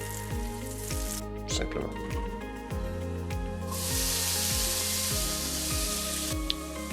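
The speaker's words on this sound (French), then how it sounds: "il ne reste qu'à les faire sauter dans le beurre" Vegetables sauté gently in butter over low heat, a soft continuous sizzle and hiss beneath a short spoken phrase, with faint clatter from stirring in the pan.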